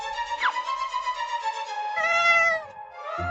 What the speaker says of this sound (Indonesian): Kucing, tutup mulut.